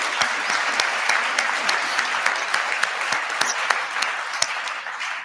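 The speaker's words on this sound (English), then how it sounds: "Let's give them another round of applause." Applause at a Beacon House 30th anniversary evening event, sustained crowd clapping with a few sharper individual claps standing out, steady for about five seconds before easing off at the end.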